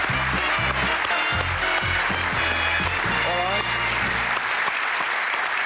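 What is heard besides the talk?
studio audience applause for Kevin Kennedy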